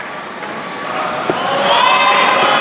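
Japanese supporters cheer at a judo bout during the World Judo Championships, a steady broad crowd roar that swells louder in the second half, with a brief thump near the middle.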